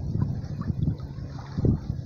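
Wind gusts buffet the microphone on a riverbank during a fishing trip, low rumbling bursts coming in uneven pulses, with faint water and a small boat's sounds beneath.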